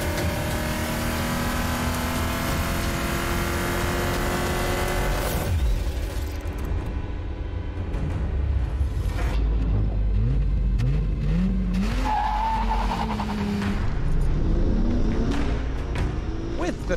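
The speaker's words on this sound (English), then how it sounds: "the M5 gets off the line with just the right amount of wheel spin" A BMW M5 with the S38 engine launches in a drag race with a loud, continuous engine roar whose pitch climbs and sweeps through repeated rises as it accelerates through the gears.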